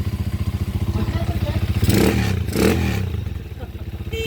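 A 200cc motorcycle engine idles steadily with a rhythmic low putter, briefly swelling louder midway with some clatter before settling back to an even run.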